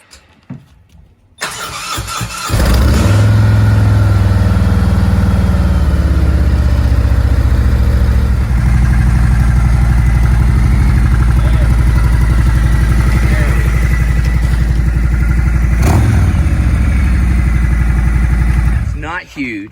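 Motorcycle rolling up and settling into a loud, close idle, a throbbing low engine rumble after a short quiet start, with a brief rev near the end and voices over it.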